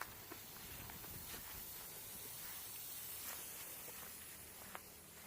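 A pressure washer sprays engine degreaser onto a zero-turn mower, a faint, steady hiss that runs unbroken for the whole stretch.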